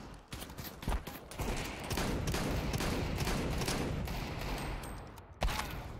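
Repeated shotgun blasts in Counter-Strike 2, a run of sharp reports with heavy rumbling echo, loud and close, one more crisp shot near the end.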